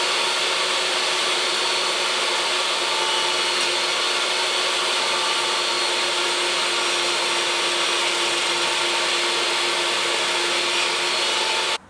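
A table saw cuts wood held in an angle-clamping jig that is run along the fence. It makes a steady, loud broadband whine that holds evenly the whole time with no break, and no voices are heard.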